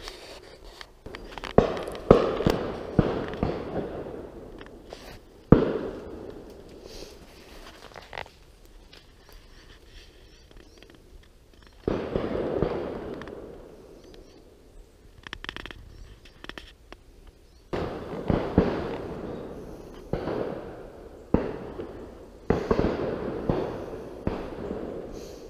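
Shotgun fire on a driven game shoot in open countryside, scattered sharp reports near and far in irregular bursts with quiet gaps between, some shots clustered in quick pairs, set against faint outdoor ambience.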